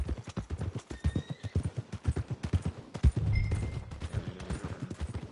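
A horse whinnies while its hooves clip-clop in a steady rhythm on the way toward the stables, with a loud neigh near the middle and the clopping continuing close by.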